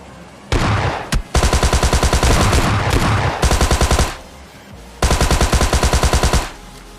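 Rapid bursts of automatic gunfire in a multiplayer shooter video game, loud and close, with three volleys of fast repeated shots separated by brief pauses.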